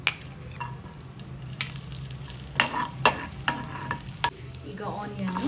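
Mustard seeds and garlic frying in a little oil in a pan, a steady close sizzle punctuated by repeated spoon taps and stirring knocks, with no voices.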